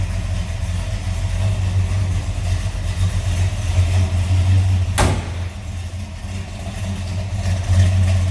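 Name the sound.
1967 Chevrolet C10 396 engine idling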